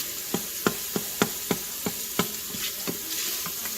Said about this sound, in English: one of the cool things about having an Instapot is I can fry inside of here before